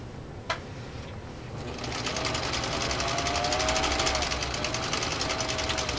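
A Husqvarna Viking Type 21 sewing machine stitches through three layers of genuine cowhide, starting with a sharp click, then speeding up into a loud, fast, steady rhythmic needle chatter that runs to the end.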